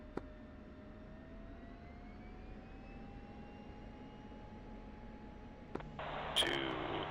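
Two military jets of the 93rd Fighter Squadron hold on the runway with brakes set, engines running up before a formation takeoff; a steady broadband roar with slowly rising whine tones, swelling louder near the end as power increases, with radio voices briefly over it.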